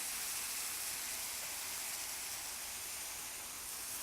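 Stock ladled onto risotto rice and onions in a hot pan sets off a steady, hissing sizzle that holds at an even level the whole time, with no voices.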